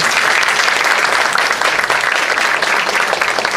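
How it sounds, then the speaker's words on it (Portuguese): A hall audience at a rare respiratory diseases event gives steady, dense applause for a doctor being introduced. The clapping is loud, even and continuous throughout, with no voices over it. "Uma salva de palmas"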